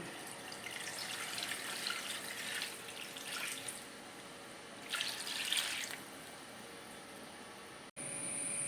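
Coconut milk poured into a mango and avoli fish curry runs in a steady, soft liquid stream, with two brief louder surges and a sudden stop near the end, with no voices.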